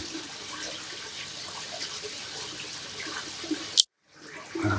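Water runs steadily through a Japanese bamboo water feature fed by a hose, a continuous close splashing trickle that cuts out abruptly near the end, then returns softly with a few drips.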